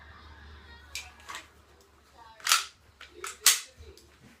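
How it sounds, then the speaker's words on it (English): Dry-fire practice with snap caps produces a handful of sharp, close metallic clicks and clacks, spaced irregularly, the loudest two standing out near the end. "so here's a little from my dry fire practice"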